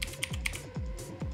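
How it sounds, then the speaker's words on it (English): Quick run of key presses on a Bluetooth mechanical keyboard with a retro vintage style, numbers tapped in a rapid irregular sequence of sharp clicky strokes, close and alone with no talk. "Okay, quick, type in 1, 2, 3, 4, 5, 6."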